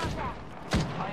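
A short burst of gunfire in the video game Apex Legends cracks out once, fairly faint against the steady background game noise.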